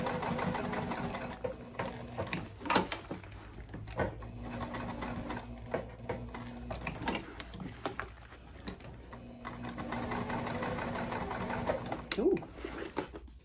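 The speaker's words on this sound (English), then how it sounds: "Okay, let's stitch our tag on." A sewing machine stitches a tag onto a crossbody bag in several short runs of rapid mechanical chatter, with pauses and handling noise between them, close and moderately quiet.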